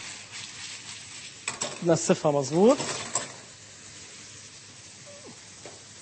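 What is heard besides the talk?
onion frying in a pan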